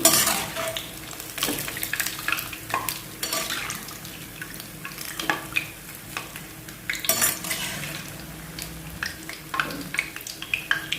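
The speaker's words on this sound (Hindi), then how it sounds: "आवाज़ यदि आ रही है खरखर की तो समझिए कि पपड़ी रेडी हो गई है" Papdi sev frying crisply in hot oil in a wok, a close crackling sizzle with repeated scraping and clinking of a slotted spoon stirring and lifting it, no talking.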